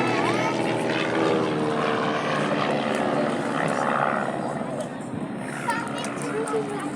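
Aircraft in the main formation at the Southport air show 2023, a continuous broad engine drone overhead that holds steady, heard beneath a commentator's voice over the public address.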